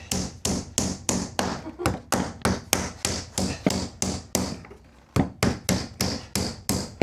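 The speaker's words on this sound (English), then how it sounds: "I'm loading up the next one as I'm nailing." Steady rhythmic hammer blows driving nails into old reused VJ timber boards during a house renovation, about twenty sharp close taps in a regular beat with one brief pause.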